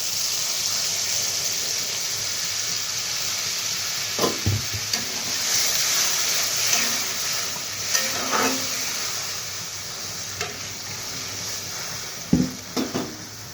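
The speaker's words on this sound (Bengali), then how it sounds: "ঢাকনাটা উঠিয়ে দিই তো দিয়ে দিব জল" A pan of amra (hog plum) chutney sizzles steadily and loudly throughout, with occasional sharp clacks and short scraping stirs breaking through the continuous hiss.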